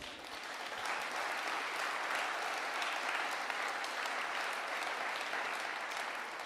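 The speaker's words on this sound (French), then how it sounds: "Donc vous pouvez les applaudir." An audience at a New Year's wishes ceremony applauds in a steady, even wash of many hands, fairly distant and sustained throughout with no voices over it.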